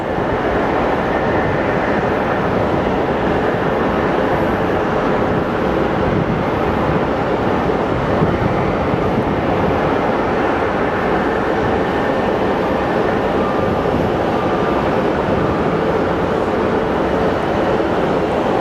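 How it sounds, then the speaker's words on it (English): An Envoy Embraer jet arrives at Sky Harbor Airport, its engines a loud, unbroken roar of broadband jet noise that holds steady from start to finish, with no voices over it. "We have our Envoy Embraer coming in into Bravo 8."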